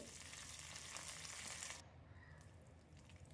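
Tempering spices with dried red chillies fry in oil for a tamarind chutney, a soft close sizzle that runs steadily, then drops abruptly and continues quieter, no voices heard.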